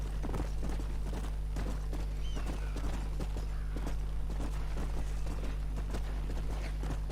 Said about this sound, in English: Y cogemos el caballo.